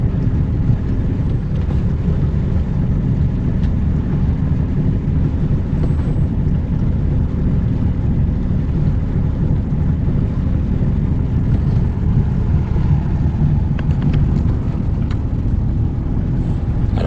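Sailboat motoring on its engine in calm conditions on a passage from La Trinité toward Gijón gives a steady low drone with rushing wind and water noise throughout, no voices.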